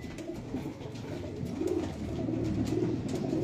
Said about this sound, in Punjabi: ਉਹਨੇ ਦੇਖੋ ਇਹ ਕਬੂਤਰ ਆਇਆ